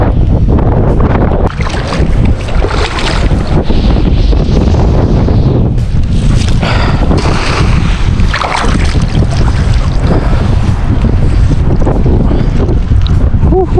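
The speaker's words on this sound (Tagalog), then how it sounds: "Ito may kalakasan ng hangin." Strong wind buffeting a boat, roaring hard and continuously against the microphone in loud gusts that swell and ease, with brief bits of talk beneath it.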